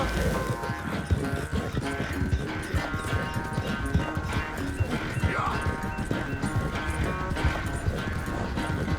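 Horse hooves clip-clop steadily at a quick rhythm in the Red Dead Redemption II video game, close and prominent over a sustained musical tone and ambient game sound.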